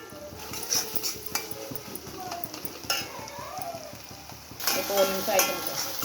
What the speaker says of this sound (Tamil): இப்போ ஒரு நிமிஷம் ஆயிடுச்சு ஃப்ரெண்ட்ஸ் பாருங்கள் காயெலாம் நல்லா வெந்துட்டுருக்கு